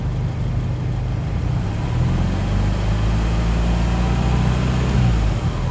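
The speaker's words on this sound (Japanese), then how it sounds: "だいたい約2000回転で発進しますので" A manual car pulls away on half clutch at about 2000 rpm, its engine giving a steady, close low drone that rises slightly in pitch partway through, with no talk over it.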